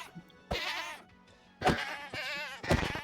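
Minecraft goat bleating in several loud, wavering calls, close and alone with short gaps between them.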